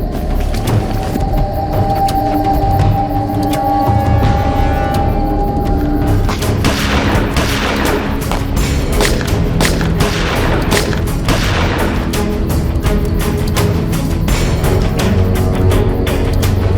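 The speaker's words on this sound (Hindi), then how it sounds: "लगता है कट्टों की गोलियां खत्म हो गई है।" Country-made pistols fire in a staged crime-drama shootout: loud, rapid cracking shots burst repeatedly through the second half over a dense, constant background rumble.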